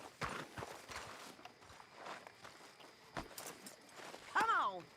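Horse hooves clip-clopping on the ground in Red Dead Redemption 2, a faint uneven series of steps under quiet ambience, with a voice briefly sounding near the end.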